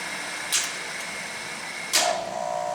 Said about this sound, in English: Now here the motor's running.